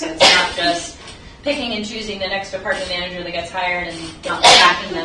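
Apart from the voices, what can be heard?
sneeze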